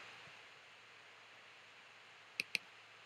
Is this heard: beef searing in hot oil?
no